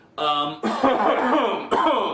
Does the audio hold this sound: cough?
yes